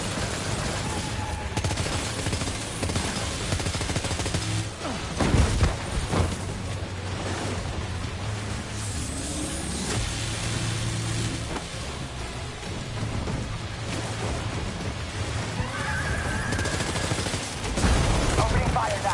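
Gunfire in the video game Death Stranding 2 crackles in scattered bursts under a dense, rumbling combat soundscape, with heavier thumps near the middle and the end.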